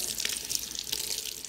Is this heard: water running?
yes